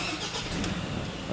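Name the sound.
Ford Ranger engine starting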